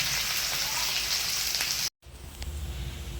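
Onions dropped into hot oil for a Bengali taro-leaf dish, a dense loud sizzle that cuts out briefly then resumes as a quieter, crackling fry.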